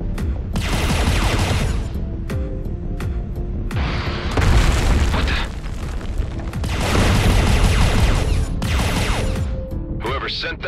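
Missile explosions in the space-shooter game Everspace 2, loud dense bursts of booming blasts and crackling debris in several waves, with a steady engine drone underneath.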